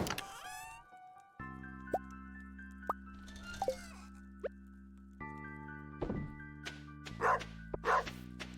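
A dog in the farming video game Stardew Valley barks a few times in short bursts over steady looping game music and ambient chimes, fairly loud and alone without talk.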